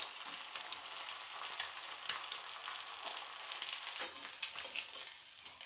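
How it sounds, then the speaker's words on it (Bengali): An egg fries gently on a flat tawa over a low gas flame, giving a steady, dense crackling sizzle with small pops throughout, fairly close and moderately loud, with no talking. "আমি ডিমটা এই চাটুর মধ্যে দিয়ে দিলাম গ্যাসটা কমিয়ে দিলাম"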